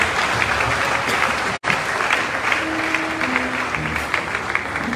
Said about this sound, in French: Acclamons très fort au Seigneur Jésus-Christ.